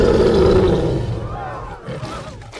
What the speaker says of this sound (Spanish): ¡El rugido, campeón! ¡El rugido!